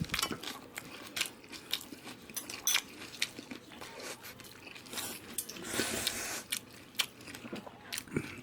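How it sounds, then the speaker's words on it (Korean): Someone chews a spoonful of barley rice dressed with perilla oil, from a Korean set meal with many side dishes, giving close, soft, irregular crunchy bites and mouth noises that run steadily throughout. "밥을 한술 먹어볼까? 응. 아 들기름이 향이 그냥 확 나네"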